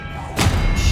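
An Expelliarmus spell is cast during a boss fight in Hogwarts Legacy, landing as one sudden, close, heavy thud with a burst of noise that then holds over a low rumble.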